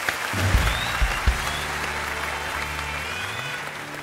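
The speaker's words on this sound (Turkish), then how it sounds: "Ya alkışlar gelsin." Audience applause in a studio show, steady clapping from a crowd sustained throughout with a few louder claps near the start.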